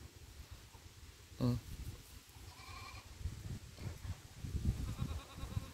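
Goats on a farm bleat at a distance, a few short wavering calls against quiet outdoor background noise, fairly faint overall.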